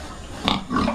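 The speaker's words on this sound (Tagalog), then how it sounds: "Lalaki pala ng baboy dito." A large pig at a market lets out a short, close grunting oink, heard alone for about a second.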